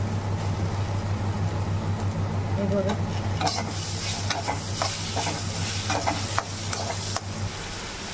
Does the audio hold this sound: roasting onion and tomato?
yes